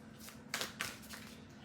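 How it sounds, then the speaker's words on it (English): Cards shuffled for a tarot-style reading, a brief soft riffle with a few quick papery bursts, close and quiet, no talking. "One more shuffle."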